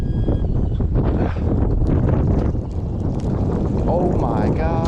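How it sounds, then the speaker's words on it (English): Strong wind on a fishing pier at night, loud, steady buffeting across the mic throughout, with people talking over it. "The wind is just destroying us."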